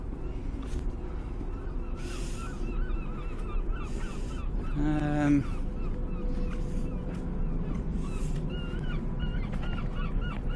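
A seagull calls once with a short harsh squawk at the stern of a DFDS North Sea ferry, set against steady ship and wind noise with scattered faint voices.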